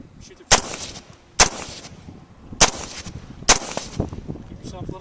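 Four loud, sharp rifle shots fired at a target, spaced about a second apart with short echoing tails, plus a quieter fifth report at the end.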